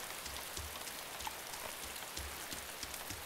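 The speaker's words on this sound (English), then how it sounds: "Visibility's closed in because of the rain." Steady rain falls in the DayZ video game, a soft, continuous hiss of drops pattering on surfaces throughout, even and unbroken with no voices.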